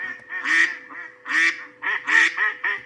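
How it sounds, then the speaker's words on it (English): Several clear duck quacks in irregular bursts, close and fairly loud, with short gaps between calls and no talk. "next bird is duck. Duck lives in"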